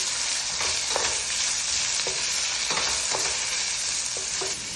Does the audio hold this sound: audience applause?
no